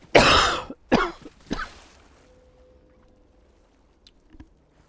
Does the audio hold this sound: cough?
yes